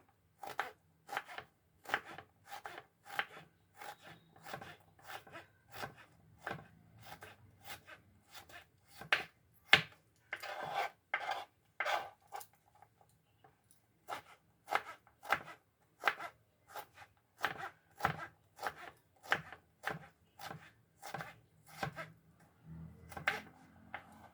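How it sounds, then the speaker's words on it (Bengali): Bottle gourd chopped finely with a knife, a long run of steady, crisp blade strikes on a board in an even rhythm, close and clear, with brief pauses and no talking. "এখন এটা আবার কুচি কুচি করবো"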